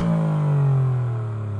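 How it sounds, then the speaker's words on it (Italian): An Alfa Romeo Giulia or Stelvio Quadrifoglio 90-degree V6 engine revs up and then eases off in race mode with exhaust valves open, a deep throaty note rising and falling over under two seconds, close by. "in modalità race apre le valvole di scarico, rendendo il suono ancora più coinvolgente e accattivante"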